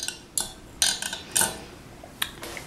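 Homemade donkey milk shampoo mixed with oils and a foaming surfactant gets stirred, a utensil tapping and clinking against the bowl in about six sharp, irregular hits, close and clear with no talking.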